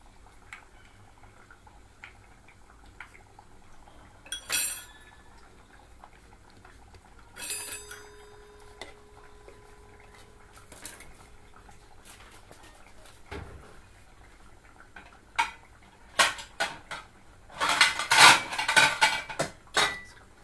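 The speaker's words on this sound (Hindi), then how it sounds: "इस तरीके से इसके ऊपर ही हम ऑयल डालेंगे।" Oil spooned over delicate food frying in a pan in a home kitchen, bursts of loud sizzling and crackling with clinks of utensils against the pan between quieter stretches.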